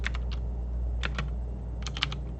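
A computer keyboard is tapped in short uneven clusters while a command is typed, with several quick keystrokes separated by brief pauses against a faint background hum.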